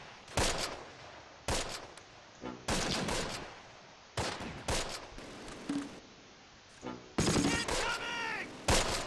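Bursts of .30 cal machine gun fire crackle repeatedly in the WWII strategy game Close Combat: Last Stand Arnhem, mixed with other gunshots. A brief tonal game sound rises near the end.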